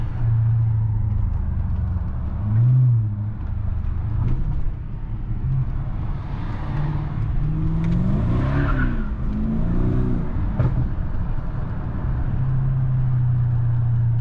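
A BMW 750i V8 engine hums steadily in city driving, with a low, continuous drone that swells and eases as the car speeds up and slows down, heard from inside the cabin.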